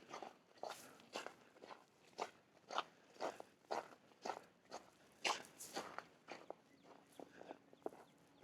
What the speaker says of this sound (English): You can probably hear it's a little crunchy snow.